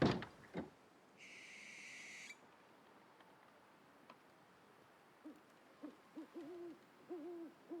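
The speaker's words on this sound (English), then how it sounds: "That is the most stock generic owl sound I've ever heard in my life." A stock owl in the wintry survival game The Long Dark gives a series of soft hoots late in the stretch, rhythmic and fairly distant, after a few faint knocks and a short high electronic tone early on.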